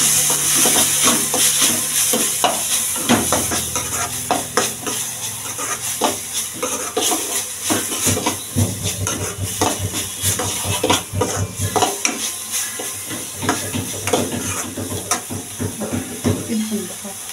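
Onions frying with salt in a pan for paneer butter masala, a steady loud sizzle and hiss with stirring scrapes throughout, a voice talking over it.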